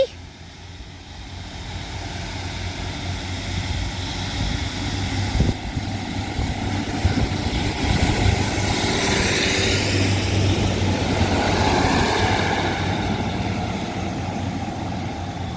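A Northern class 150 diesel multiple unit departs a station on a Manchester branch line, its engine a steady rumble that builds gradually and holds as the train pulls away, with broadband noise throughout and no talk over it.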